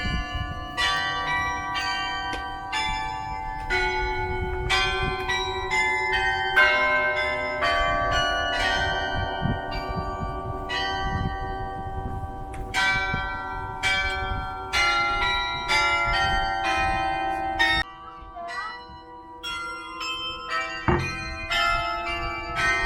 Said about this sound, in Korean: 저 밑에서도 사람들이 기다리면서 종소리를 듣고 있어요.